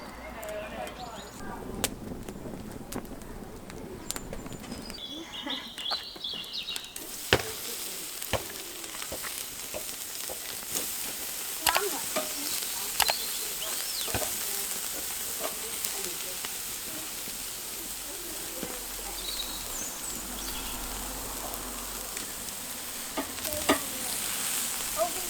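A campfire started from pre-carved feather sticks crackles and hisses outdoors, with sharp scattered pops and snaps over a steady rushing burn, fairly close.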